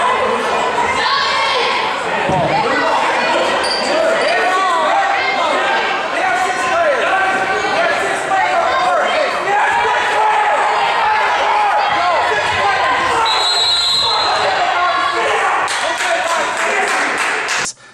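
An indoor basketball crowd and coaches chatter and shout over continuous voices, reacting to a team with six players on the floor, with occasional sharp squeaks and taps.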